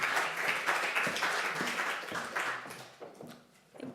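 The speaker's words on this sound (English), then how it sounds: "Please give a hand of applause to Anne Kolstad." An audience claps to welcome a speaker at a lean construction talk, a short burst of applause that thins out and fades over a few seconds.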